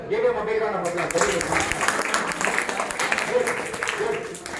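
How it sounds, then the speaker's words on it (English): Applause from a classroom audience at a motivation and study-skills session: a dense, steady patter of many hands clapping, sustained for several seconds at moderate loudness, with voices mixed in. "give him a big round of applause"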